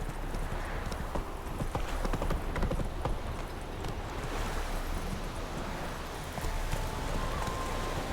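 Roach, the horse in The Witcher 3, gallops with steady, continuous hoofbeats, a brief whinny, and a rushing ambient wash of wind or surf behind the fast clip-clop.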